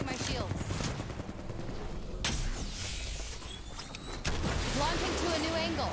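Knuckle Cluster ability firing in Apex Legends, a dense burst of rapid popping shots and explosions layered over game noise and loud continuous action, growing louder near the end.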